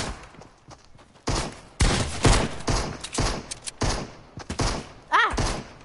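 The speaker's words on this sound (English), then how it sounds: "Who else is shooting at me?" Video game gunfire cracks out in irregular bursts and single loud shots, with rapid volleys and some thuds, under an occasional excited voice.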